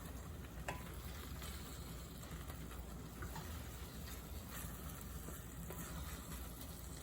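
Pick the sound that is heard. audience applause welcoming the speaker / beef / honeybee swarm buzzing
beef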